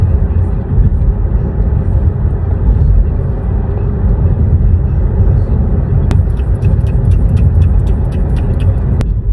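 A car rolls past outside in Los Angeles, heard as a dense, steady road roar with rumbling low end, loud throughout, with a few faint clicks near the end.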